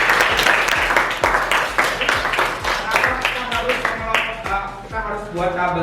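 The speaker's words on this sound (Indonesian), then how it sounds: "Tepuk tangan buat Raisa." A class of students claps for a classmate during a mathematics lesson: a steady, fairly loud round of applause with sharp rhythmic hand claps that thins toward the end, with a voice faintly underneath.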